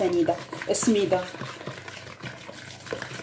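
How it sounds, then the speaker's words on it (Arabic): Semolina batter for cream basbousa being mixed in a bowl, with close, wet scraping swirls that repeat unevenly; a voice speaks briefly over the opening stirs. "نخلطوه مزيان عاد باش نزيدو الكاس الثاني"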